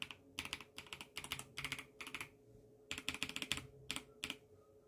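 Close, quiet typing on a computer keyboard comes in quick bursts of clicking keystrokes separated by short pauses, with no talking.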